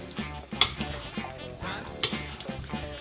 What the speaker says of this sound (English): So you want to mix that in real well